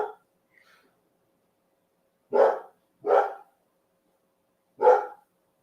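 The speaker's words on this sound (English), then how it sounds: "The dog is barking for some reason." A dog barks three separate times, sharp and fairly close, with pauses between barks, in an otherwise quiet room during a watch party for a Boise State vs South Florida football game.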